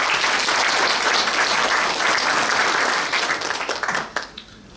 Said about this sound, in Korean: 좋은 기사 내달라고 또 아름다운 글로 잘 정리해달라고 함께 박수하시겠습니다